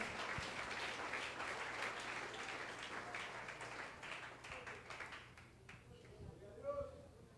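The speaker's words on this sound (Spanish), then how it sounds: "Den un aplauso al Señor." A church congregation applauds during a Spanish-language service in Medellín, Colombia, a dense, faint wash of clapping that carries on for several seconds, then thins out and fades near the end.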